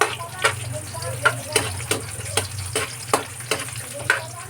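Garlic and onion frying in hot oil for a breakfast noodle dish, a steady sizzle broken by evenly spaced stirring strokes roughly every half second, close and loud.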